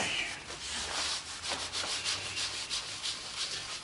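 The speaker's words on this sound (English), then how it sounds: "And it's like you're buffing it." Paint is buffed off a laser-engraved glass Christmas ornament on a packing table, a soft, close rubbing in quick repeated strokes that swells and fades with each pass, quiet and with no voices.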